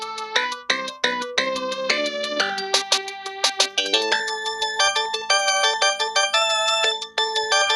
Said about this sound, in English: I really like the music in Virtual Racing